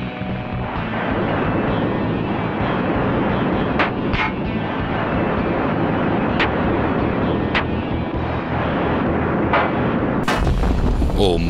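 Heavy sustained gunfire aimed at the player's helicopter in the tactical helicopter combat game Heliborne, a dense, loud, continuous barrage with sharper individual cracks popping through and a rotor-like drone underneath.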